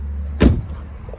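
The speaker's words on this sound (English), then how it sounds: "Did you hear how good that door shut?" A 2002 Ford 7.3 pickup truck door shuts once with a single solid, close thud, with a low steady rumble underneath and no voices.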